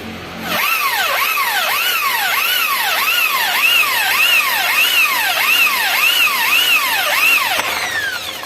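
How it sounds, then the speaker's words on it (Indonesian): A power drill with a 7 mm bit bores out a bolt snapped inside a Honda motorcycle mount, giving a loud, steady whine that rises and falls in repeated cycles for about seven seconds before it stops. "patah di dalam mau saya bor ya"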